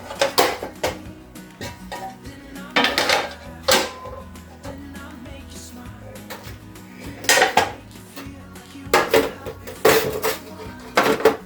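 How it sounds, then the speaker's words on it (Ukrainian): Plates being washed clatter and clink against each other and cutlery in several separate bursts, loud and close, with quiet gaps between. "Пластини у миються взагалі без проблем."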